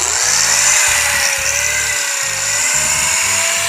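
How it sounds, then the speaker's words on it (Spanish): An angle grinder polishes a wooden handicraft piece to clear off debris, giving a loud, continuous whine with a gently rising pitch and choppy grinding bursts underneath. "Ahora le voy a pulir un poquito con la moladora para sacarle la basura."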